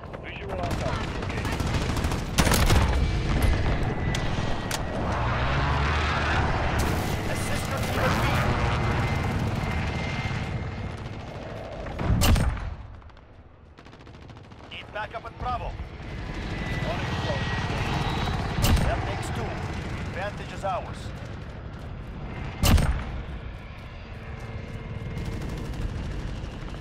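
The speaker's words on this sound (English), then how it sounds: "Allied precision airstrike in." Call of Duty Modern Warfare match with an airstrike and gunfire: bursts of machine-gun fire and sharp shots over a droning aircraft rumble, with a few loud impacts, while voices talk over the action.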